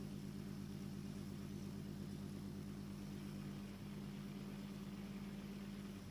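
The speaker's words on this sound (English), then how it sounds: "So this is it, 220 volts, and the motor works" A small electric motor salvaged from a broken room heater runs on 220 volts, giving a steady low hum with a faint whirring, constant and close, with no voices.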